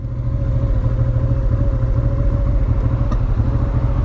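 A Honda Transalp motorcycle engine with a gravity vacuum fuel pump and no ABS runs steadily while riding on Dartmoor, a continuous low rumbling drone that stays loud and even throughout with no talking.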